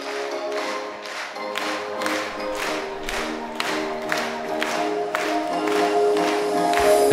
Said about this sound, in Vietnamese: Xin mời các bạn học sinh hãy cùng vỗ tay thật to theo điệu nhạc